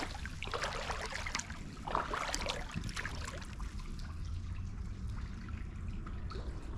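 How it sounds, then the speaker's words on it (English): Water flows and trickles in a city creek, a soft uneven burble with light splashes, fairly faint and steady throughout. "Look at that water flowing."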